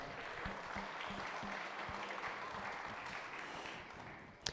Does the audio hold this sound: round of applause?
yes